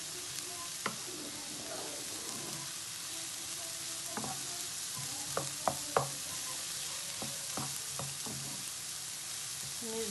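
Courgettes sizzle in a pan of coconut oil and get stirred, a steady close frying hiss broken by scattered scrapes and clinks of the utensil against the pan.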